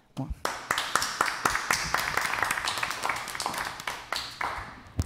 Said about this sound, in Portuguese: quero aqui, de coração mesmo, dar o meu aplauso para essas pessoas aí